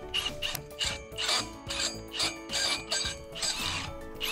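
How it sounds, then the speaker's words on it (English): Masonry anchor being tightened to secure a vertical wall mount for a mast pole, heard as close, repeated ratcheting and grinding clicks in uneven bursts with no talking. "secure and tighten the first masonry anchor"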